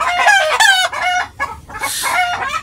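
A rooster and chickens crow and cluck loudly in a rural hut setting, with several overlapping calls, a long crow near the end.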